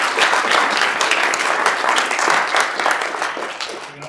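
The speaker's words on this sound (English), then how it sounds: "I give them a warm round of applause for our pitchers" A warm round of applause from an audience at an ice-fishing themed pitch event, dense steady clapping that stays loud throughout before tapering slightly at the end.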